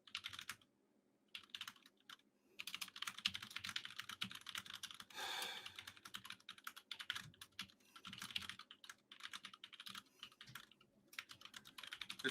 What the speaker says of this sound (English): Just typing to someone quickly.